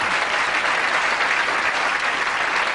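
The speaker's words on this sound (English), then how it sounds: "Let's hear it for Leggett" A late-night talk show studio audience breaks into steady, loud applause, a dense wash of clapping with no pause and no talking.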